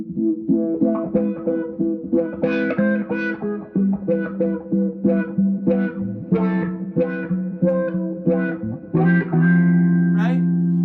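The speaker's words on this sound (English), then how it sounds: "But with the reverb on there, it kind of gets this almost synthy kind of." Electric guitar played through a pedalboard with reverb, often on the neck pickup, giving a smooth, almost synth-like tone; a sustained melodic line of chords and notes rings out steadily with lush decay and no talk.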